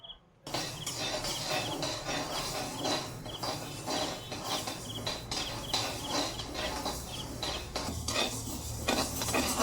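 Chakli flour ingredients being dry-roasted in a pan, with repeated close metallic scrapes and clinks of a spoon against the pan over a faint background sizzle, no talking.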